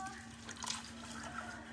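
Fruit cocktail syrup pours in a steady liquid trickle into a container, close but soft, lasting under two seconds with a faint splash partway through.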